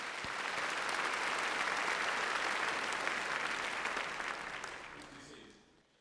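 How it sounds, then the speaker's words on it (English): Sustained applause from a graduation ceremony audience at Raytown High School, steady and dense for several seconds before tapering off near the end. "Please recognize them with a round of applause."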